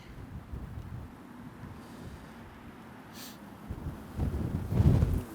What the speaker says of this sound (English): Oh, that's a nasty gust.